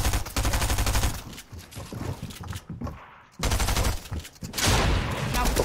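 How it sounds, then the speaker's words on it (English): Rapid bursts of gunfire in a competitive shooter match, dense loud volleys with a brief lull in the middle before firing resumes, faint voices underneath. "I got shot."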